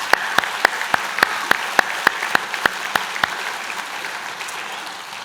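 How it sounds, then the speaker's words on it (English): An audience applauds a graduating class at a trades and apprenticeship school convocation, with a row of crisp, evenly spaced claps standing out near the front over a softer wash of applause that fades out. "how about a round of applause for the graduating class of 2019?"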